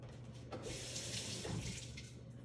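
Peeled cassava being rinsed under a running kitchen tap, a steady hiss of flowing water splashing into a sink, continuous and close, with no talking.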